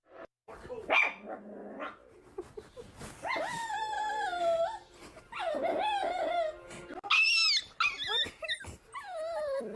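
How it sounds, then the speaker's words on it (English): A puppy whimpering and yelping in a series of high, wavering cries and short barks, fairly close, with brief pauses between calls. "it's an actual puppy"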